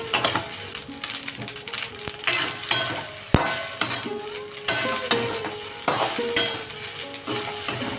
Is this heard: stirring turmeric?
yes